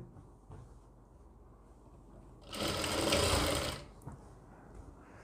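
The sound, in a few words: sewing machine stitching side seam of gown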